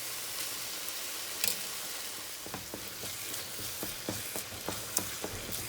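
Butternut squash halwa bubbles in ghee with a constant hissing sizzle, broken by soft, irregular stirring taps in the pan, close by and moderately quiet, with no voices.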